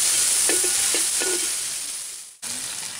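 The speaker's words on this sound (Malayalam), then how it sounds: "വെളുത്തുള്ളി ഇട്ട് കൊടുക്കുന്നുണ്ട്, സവാള ഇട്ട് കൊടുക്കുന്നുണ്ട്" Garlic and onions for a pork fry sizzle loudly in hot oil, with a few utensil scrapes and clinks as they are stirred, the frying briefly cutting out before resuming.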